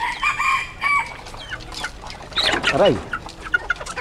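Pet chickens cluck and squawk while eating, giving short, uneven bursts of close clucking with a sharper rising call in the middle. A voice breaks in briefly.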